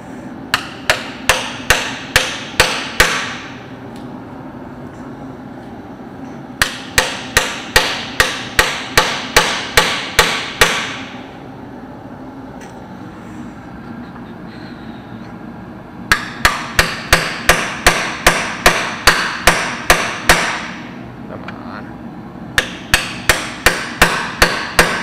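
Repeated hammer blows on John Deere 530 tractor engine parts during an overhaul, loud close metallic strikes in rapid bursts of about ten to twelve hits, separated by short pauses.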